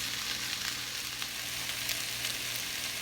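Vegan breakfast burrito filling sizzles in a frying pan, a steady, even hiss of frying with faint crackles throughout, quiet and with no voices.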